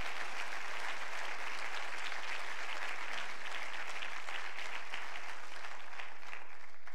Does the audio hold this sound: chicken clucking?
no